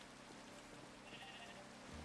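Sheep bleat on a video game sheep farm, a few short wavering calls rising over a steady, rain-like background hiss, fairly close and with no talk.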